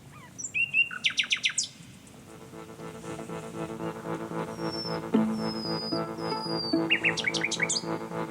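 Birds sing outdoors in several bright bursts of rapid chirps and trills, some near and some farther off, over a steady low background and faint tonal hum.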